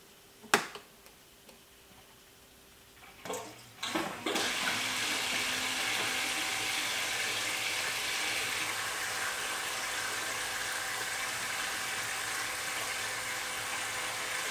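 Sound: reef aquarium return pump starting, water flowing

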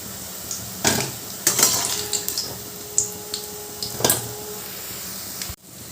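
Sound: vegetable koftas frying in oil, lifted out with utensil

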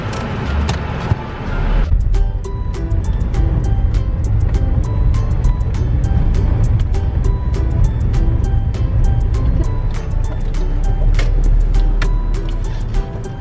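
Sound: car driving, looking for parking

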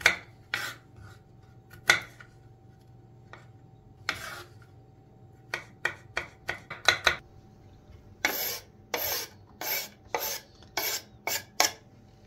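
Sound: finely chopping garlic

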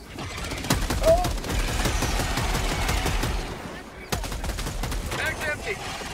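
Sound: gunfire in the video game Helldivers 2

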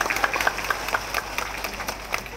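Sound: audience applause at school performance

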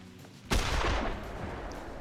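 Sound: F3 Blazer rifle gunshot in The Hunter Classic video game

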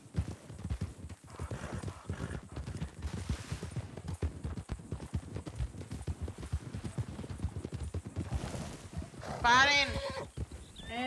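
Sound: horse hooves clip-clopping and neighing in a video game

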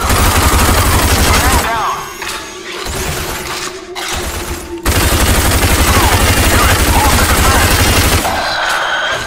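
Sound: gunfire in the video game Rage

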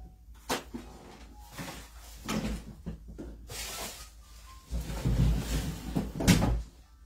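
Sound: door closing

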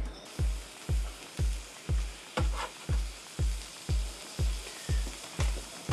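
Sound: onions frying in a pan

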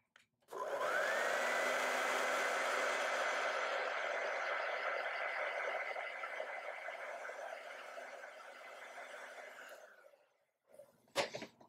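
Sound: drying acrylic paint with a dryer

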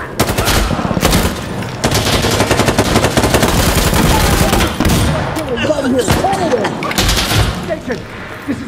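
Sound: turret machine gun fire in a video game

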